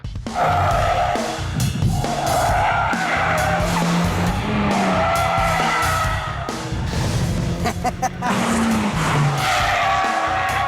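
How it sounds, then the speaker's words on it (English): A Ford Fiesta ST cornering hard with tires squealing and skidding in long wavering wails over a steady loud engine roar, close and continuous throughout. "But then I took the Ford for a spot of cornering."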